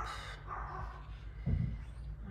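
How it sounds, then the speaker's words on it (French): Dogs bark indoors in a home crafting space, a few short muffled barks and yips rising over faint room noise. "Désolée pour les chiens."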